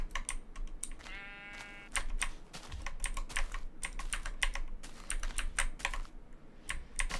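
A single Minecraft sheep gives one short bleat early on, while loud, close keyboard typing clatters throughout.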